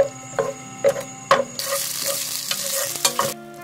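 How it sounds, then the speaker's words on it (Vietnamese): Shallots, garlic and crushed lemongrass are stir-fried in a spoonful of hot oil in a pot, giving a constant loud sizzle broken by several sharp scrapes and clacks as the aromatics are stirred. "cho vào 1 muỗng canh dầu, cho vào 1 muỗng canh hành tỏi cùng với sả đập dập, phi lên cho thơm"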